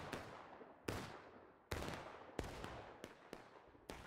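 Musket volleys in the Civil War game War of Rights, at a grist mill, with about seven sharp, distant reports spaced irregularly, each trailing off into echo.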